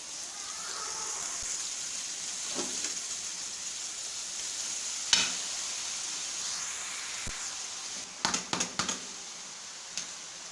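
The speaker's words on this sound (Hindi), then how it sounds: "तो अभी हम इनको फ्राई कर लेते हैं।" Spinach and potato pieces hiss and sizzle steadily in a hot pan through the whole stretch, with a few sharp clanks and scrapes of stirring near the end.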